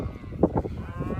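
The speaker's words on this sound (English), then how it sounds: "the cow will constantly call to her calf. She'll give low mooing sounds." Cow giving a short, low moo to her newborn calf on a farm, heard close and fairly loud against a steady low background rumble, with no talk.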